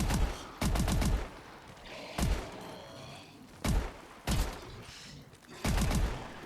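Gunfire in the video game Exo Zombies, Infection map: several loud bursts of rapid automatic shots, some long and some short, spread across the stretch with faint game noise between them.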